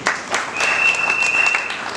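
Crowd applause at an official book launch in Kasai Central, a dense, steady patter of many hands filling the whole moment, with a faint sustained tone running through the middle.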